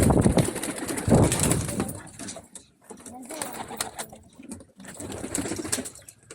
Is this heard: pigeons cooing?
yes